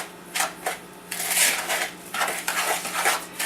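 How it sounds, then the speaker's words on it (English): Dry Italian seasoned breadcrumbs and Parmesan cheese are stirred together in a bowl, giving a steady run of soft scraping and light clinks of utensil against the dish, fairly close, with no talking. "I'm going to go ahead and add the cheese and stir it up, mix it up."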